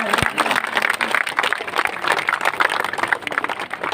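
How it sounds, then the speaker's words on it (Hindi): Crowd clapping at an election rally for an independent candidate's nomination: steady, dense applause throughout, with a sharp knock near the start and a loud, busy outdoor crowd. "आप लोग तालियां जो है बजाते रहे"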